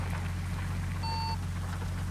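Steady video-game rain hiss under a low engine-like hum, with a brief electronic beep in the middle.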